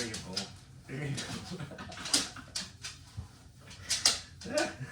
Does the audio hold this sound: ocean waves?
no